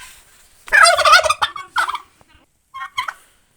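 A male turkey gobbles close by in a loud rapid rattling burst, then gives a few shorter gobbles after brief pauses.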